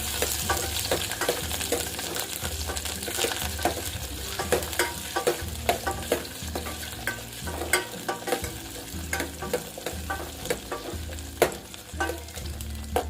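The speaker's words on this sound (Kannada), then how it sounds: "ಇವಾಗ ಇದಕ್ಕೆ ಮೀಡಿಯಂ ಸೈಜ್ ಈರುಳ್ಳಿ ಹಾಕ್ತಾ ಇದ್ದೀನಿ. ಫ್ರೈ ಮಾಡೋಣ." Medium-size onions fry and sizzle in a hot pan, a continuous crackling hiss broken by frequent scraping and clinking as a utensil stirs them, close and without talk.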